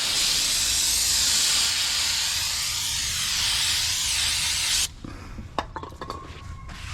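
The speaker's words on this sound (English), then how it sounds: "Use a little brake parts cleaner." An aerosol can of brake parts cleaner blasts a loud, continuous hiss onto the rear brake rotors of a 2019-2024 RAM 1500 for nearly five seconds, then stops, followed by a few faint clinks and handling noises.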